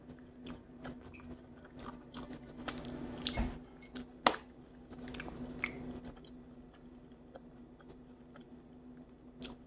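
Someone chewing a Pulmuone mozzarella cheese hot dog with a crisp coating, close-up soft crunching and squishy bites in a steady irregular rhythm, one sharper crunch standing out, no talking.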